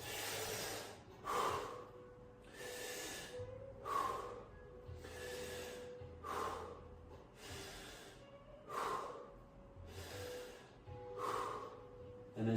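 Slow, deep breathing while lying on the back with legs bent during a floor stretching exercise: about six full breath cycles, each a broad rushing inhale-exhale swell repeating every two seconds or so, close and steady with no talk.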